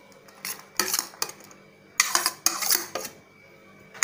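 A spoon scrapes and clinks against a metal pot while mixing Kutchi dabeli potato masala with onions and peanuts, in several bursts of clattering, close and fairly loud, with no talking.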